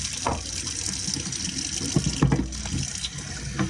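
Water runs from a household faucet in a steady, close gush that keeps flowing, with a few knocks and handling sounds breaking in partway through.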